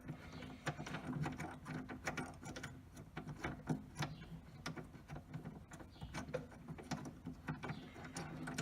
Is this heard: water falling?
no